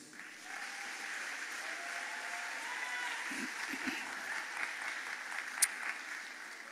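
Applause from a congregation at a Seventh-day Adventist pastor's consecration service, soft steady clapping heard from a distance for several seconds, with a brief murmur partway through.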